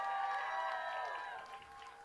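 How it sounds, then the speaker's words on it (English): Audience at a general election results event in Vermont cheers and applauds after a win is announced, a steady crowd roar with whoops that fades slightly toward the end. "Come on, let's cheer for that."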